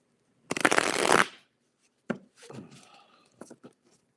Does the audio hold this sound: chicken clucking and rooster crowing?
no